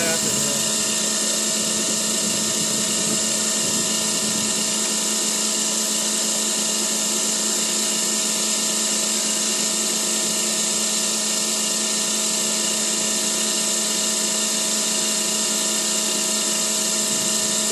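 A rotovertor spins up to speed with a steady, high-pitched electrical whine and a dense band of humming tones that holds loud and constant throughout, while a voice talks faintly underneath.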